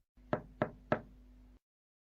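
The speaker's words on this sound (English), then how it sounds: "she knocked on the door" Three firm knocks on a wooden door, evenly spaced and close by, dropped into a fairy-tale narration about an old woman calling at the dwarfs' forest cottage; a faint low hum sits beneath them.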